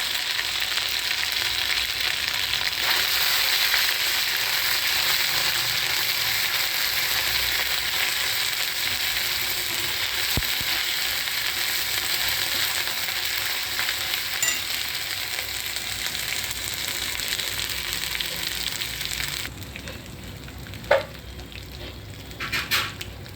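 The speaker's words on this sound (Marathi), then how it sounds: "आता हे कुट्टा आहे अद्रक लसूण कोथिंबीरचा. तर त्याला तळून घ्यायचं." Ginger, garlic and coriander paste fries in a pan with a loud, steady, dense sizzle that holds for over twenty seconds, then eases slightly as a few stirring clinks sound near the end; no one speaks.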